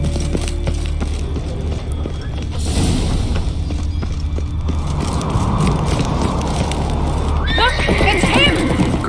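A horse whinnies and hooves clip-clop in The Witcher 3 as the mount sets off, under game dialogue and ambient sound, with a clear neigh near the end.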